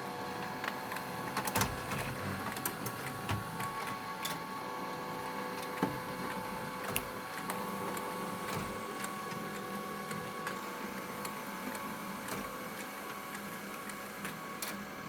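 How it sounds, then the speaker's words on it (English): An inkjet printer runs test pages for a minicomic, giving a continuous mechanical whir with clicking and shuttling ticks throughout, moderately close and steady. "let's get printing."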